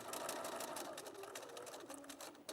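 A sewing machine runs steadily, stitching a quilt seam close to the fabric edge before border pieces go on, a continuous close whirring drone that is moderately loud and has no voice over it.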